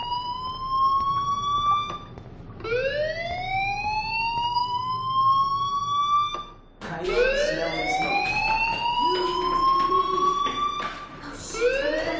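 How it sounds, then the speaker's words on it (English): Rising, wailing electronic alarm tones sweep upward repeatedly, loud and close, as a fire alarm sounds inside the school in the game Life is Strange, with several overlapping sweeps and a brief gap midway. "Hey, do you hear that fire alarm?"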